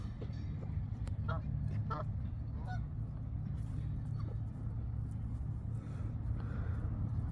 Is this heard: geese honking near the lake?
yes